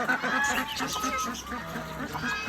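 A busy flock of chickens clucking and squawking close by as they are let out of their coop, overlapping calls with a few louder cries and some background voices.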